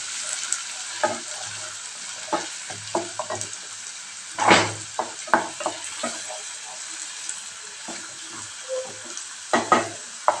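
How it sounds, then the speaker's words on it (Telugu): Thinly sliced onions frying in a pan for mushroom masala curry, a continuous soft sizzle broken by repeated scraping and stirring strokes, several sharper bursts among them, close up and without speech. "ఇప్పుడు దీంట్లోకి సన్నగా తరుక్కున్న ఉల్లిపాయ ముక్కలు వేసుకుందాం"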